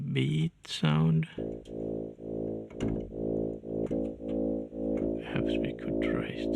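A synthesized beat from Yoshimi (ZynAddSubFx) pulses in a steady, evenly spaced rhythm of buzzy, tonal hits, entering after a brief spoken voice, with some talking over the later pulses.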